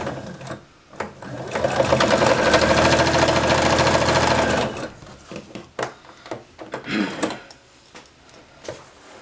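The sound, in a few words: sewing machine stitching a patch on denim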